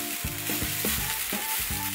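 Hard-to-cook hot pot ingredients such as fish egg dumplings and taro sizzle loudly in a hot Zhujian pot as tongs push them down, with steady frying hiss broken by a few clattering stirs.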